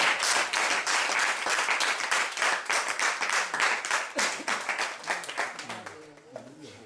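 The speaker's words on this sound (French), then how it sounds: "Applaudissez la présidente, s'il vous plaît." An audience applauds a woman president at a charity visit to an orphanage: dense, loud clapping that runs steadily for several seconds, then thins out and fades as voices start to come through near the end.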